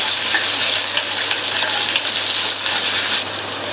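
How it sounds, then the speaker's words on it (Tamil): Finely chopped onions sauté in hot oil with curry leaves for a chayote stir-fry, giving a loud, dense, continuous close sizzle with no talk. "இந்த வெங்காயத்தை லைட்டாக வதக்கி விட்டுட்டு"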